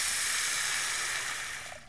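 Water poured into a hot pan of oil and spices while cooking a falsa berry shorba, giving a loud steady hiss that slowly fades toward the end.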